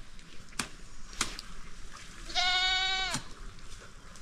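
A young goat separated from its mother gives one clear, drawn-out bleat near the middle, preceded by a few sharp knocks against a steady outdoor background.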